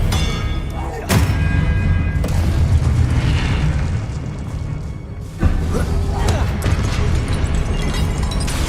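An Expelliarmus spell cast in Hogwarts Legacy gives a heavy booming burst with a sharp onset, then a second strong boom a few seconds later over a dense rumbling game backdrop, with a voice speaking during the clip.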